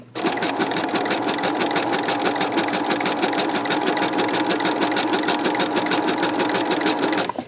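A sewing machine stitches a junk journal envelope in one steady, loud, continuous run of rapid needle clatter that lasts nearly the whole stretch, with no talking.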